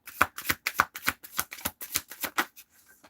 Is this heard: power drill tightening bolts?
no